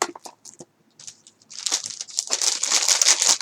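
Large plastic bag crinkling up close, with a few sparse rustles at first, then building into continuous loud crackling handling.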